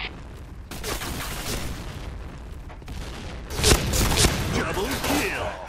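Gunfire in the video game Point Blank crackles in dense bursts and booms, loud and close, with a heavy blast near the middle, while someone talks over the shooting.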